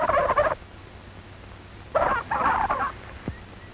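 A turkey gobbler on a farm near the turkey yard lets out two rapid rattling gobbles, the second longer, with a quiet pause between them.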